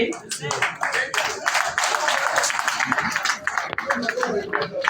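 Audience applause with cheering at a regional assembly for musical arts, a dense, steady wash of clapping hands and raised voices filling the whole span, loud and continuous.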